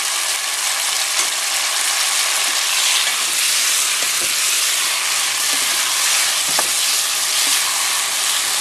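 Pork and rib pochero sautéing in a pan just after fish sauce goes in: a loud, continuous sizzle with a few faint stirring knocks scattered through it.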